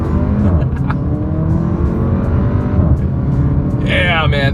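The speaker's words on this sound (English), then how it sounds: "let's see how quickly we can get this one here up to speed" A 2024 Porsche Macan luxury SUV accelerates hard on a straightaway, its engine drone climbing steadily in pitch from inside the cabin, with a brief voice near the end.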